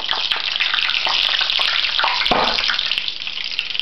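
Loud, steady sizzling of beer-battered fish frying in hot oil, crackling continuously throughout with a brief spatter midway.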